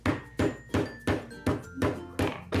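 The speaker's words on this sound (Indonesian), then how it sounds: "sekarang kita geprek serainya Tobi" Lemongrass stalks are bashed in the kitchen with seven evenly spaced dull thuds over a couple of seconds, close but fairly quiet, with no talking over them.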